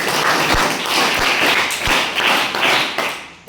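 An audience applauds guests at a school function, a steady dense clapping that holds for several seconds, fairly close and loud, then tapers off at the end.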